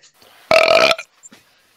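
A single loud, drawn-out burp lasting about half a second, standing alone against a quiet background with faint noise before and after.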